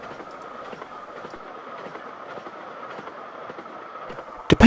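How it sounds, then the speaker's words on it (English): Narrow gauge steam train running on the Bure Valley Railway between Wroxham and Aylsham, a steady rolling clatter of carriages heard from nearby for several seconds, ending in a sudden loud burst. "This is a delightful narrow gauge steam train that goes between Wroxham and Aylsham"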